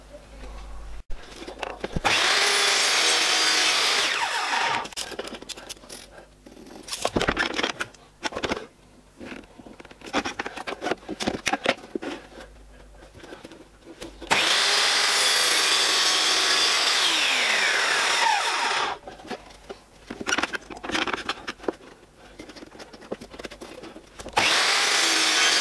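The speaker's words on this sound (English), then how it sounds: "So we'll go ahead and make that cut first of all." A saw cutting wooden stretchers for a simple stool, two long loud bursts of steady sawing separated by quieter handling and knocks.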